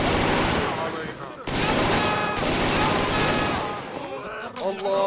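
Gunfire in the video game Fursan al-Aqsa, dense bursts of shots with a short pause, heard under game music and a voice talking throughout.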